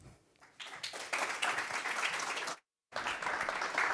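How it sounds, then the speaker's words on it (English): Conference audience at a developer event applauding to welcome two speakers onto a studio stage, clapping that swells from scattered claps into sustained, fairly close applause, briefly cut to silence before continuing. "So give a welcome applause for Lara and Beatrice."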